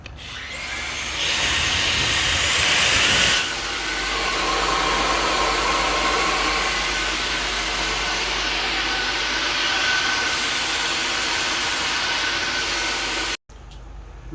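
A new Samsung J70 vacuum cleaner runs loud and close with a steady airy roar, a brief louder surge in the opening seconds, then a constant hum until it cuts off abruptly near the end.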